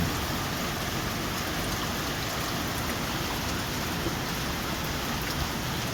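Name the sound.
heavy rain falling during tropical depression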